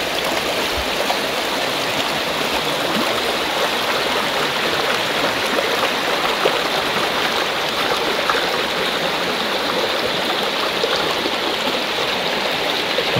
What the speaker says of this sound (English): limestone cliffs, and then the water runs from underneath them